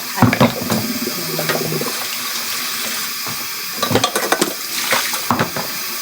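Tap water runs steadily into a kitchen sink while things are rinsed during quick home cooking. Occasional clinks and knocks of dishes stand out above the flow. No one speaks.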